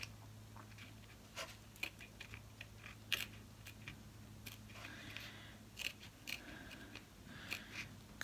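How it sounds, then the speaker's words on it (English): Scissors snip through paper for a craft banner, giving a series of quiet, close, irregular crisp cuts over a low steady background hum. "it's probably boring watching me cut"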